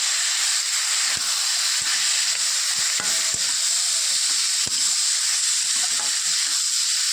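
Jackfruit pieces sizzle steadily in a hot pan with ginger, garlic and chili, under a constant loud hiss with occasional soft scraping knocks of stirring throughout.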